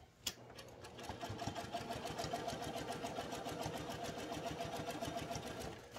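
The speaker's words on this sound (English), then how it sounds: "This machine will go plenty fast, not like a commercial unit, but 1500 stitches per minute" Home sewing machine stitching a postpartum padsicle, running in a fast, even mechanical whir with a rapid regular stitch rhythm for several seconds after a brief start, close and fairly quiet.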